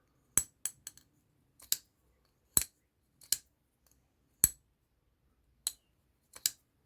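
Sharp metallic clicks and pings from a Typhon folding knife, its blade snapping against the stop pin, repeated in irregular bursts of single and double snaps, close and crisp against near silence.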